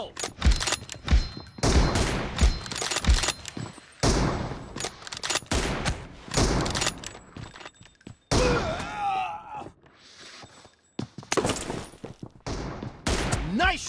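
Gunfire in the mobile shooter BGMI: repeated close bursts of rapid automatic fire and single cracks in uneven clusters, broken by short quiet gaps, with a brief whooshing effect partway through.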